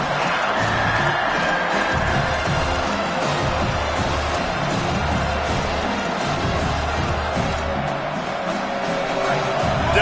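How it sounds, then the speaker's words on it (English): Stadium crowd in a football video game roaring on 3rd down: a dense, continuous wash of cheering and noise that holds steady and swells slightly, with faint commentary voices underneath. "Decibels rising as the crowd gets behind this defense on 3rd down."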